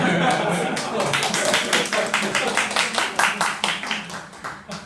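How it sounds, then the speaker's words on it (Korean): An audience at a Korean lecture on Romans claps: dense applause at first, then thinning into distinct, rhythmic group claps that fade toward the end. "다시 박수."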